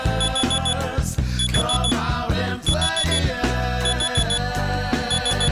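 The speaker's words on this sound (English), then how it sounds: "The alarm clock told us we're here in the ministry." An alarm clock rings in loud, regularly repeating bursts of beeping, layered over a busy musical backing.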